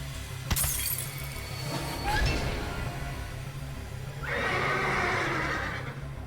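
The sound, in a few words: horse neigh sound effect from video game Parasite Eve 2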